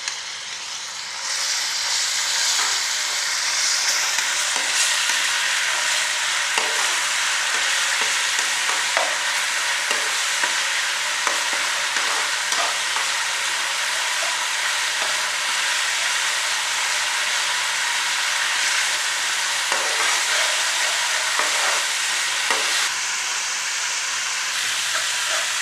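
Garlic ginger paste sizzling and frying in half a cup of hot oil for a Peshawari shinwari beef karahi, a continuous loud crackling sizzle with occasional stirring scrapes, steady throughout with no talk.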